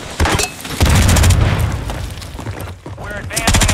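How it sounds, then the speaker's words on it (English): A grenade explosion in Call of Duty Modern Warfare 3 lands as a loud, booming blast within dense multiplayer combat noise, followed by rumble and scattered gunfire, with in-game voice callouts over it. "Throwing grenade."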